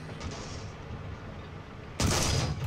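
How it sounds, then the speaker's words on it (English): A tank cannon fires a high-explosive shell in the War Thunder video game, a single sudden loud boom near the end after quiet engine rumble. "So I'm shooting now high explosive because I'm thinking, okay, perhaps I can do at least some damage with that, but the shots just bounce"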